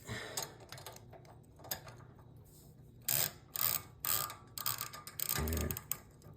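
A socket wrench ratchets while tightening bolts on a Duromax 440cc gas engine, several short bursts of clicking close by over a quiet background, with no voices.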